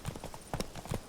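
Horse galloping in The Witcher 3: Blood and Wine, a quick, close run of rhythmic hoofbeats on the ground, rendered as game audio.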